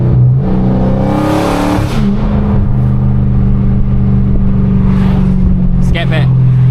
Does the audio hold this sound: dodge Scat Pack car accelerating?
yes